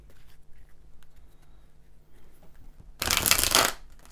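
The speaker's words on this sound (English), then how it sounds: "I'm going to quickly do a big girl shuffle." A deck of cards shuffled during a tarot reading, one loud dense riffle burst lasting under a second near the end after quiet room tone.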